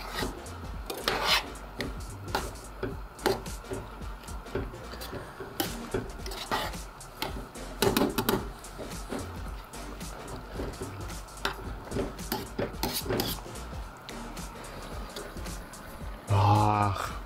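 Rice and spinach being stirred in a pot, repeated scraping and rubbing strokes of a utensil against the pot under a person talking, with a few louder clatters.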